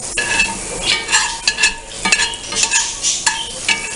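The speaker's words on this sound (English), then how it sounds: "put the butter in the pan. You just put it in the middle of the pan, swirl it with the spoon or the spatula" Butter being swirled with a spoon in a frying pan before a fried egg goes in: a soft sizzle under repeated rhythmic scraping and stirring strokes, close and fairly loud, with no speech.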